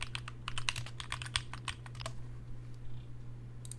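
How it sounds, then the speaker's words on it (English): Rapid typing on a computer keyboard, a dense burst of keystrokes for about two seconds followed by a near-silent pause and a final short flurry, heard close over a steady low hum. "You're going to have to type this out."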